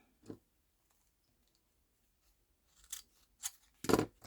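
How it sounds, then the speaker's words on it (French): Scissors snip ribbon at an angle while decorative knots are made: a single crisp cut near the start, then a quick run of three or four close, sharp snips after a pause, in an otherwise quiet room. "Celui-là aussi, je vais le couper en biais."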